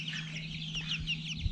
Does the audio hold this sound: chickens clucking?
yes